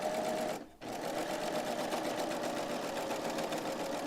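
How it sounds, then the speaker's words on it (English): An Acclaim serger stitches fabric in a fast, steady mechanical whir, pausing briefly near the start before running on evenly and close. "the machine Joni is sewing on right now is the Acclaim"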